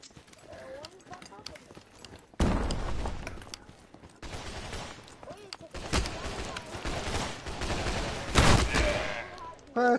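Loud shotgun blasts in a VR shooter game, a few sharp booming shots breaking through chatter, with people talking excitedly over and between the shots.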